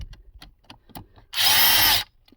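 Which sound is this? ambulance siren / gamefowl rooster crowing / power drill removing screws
power drill removing screws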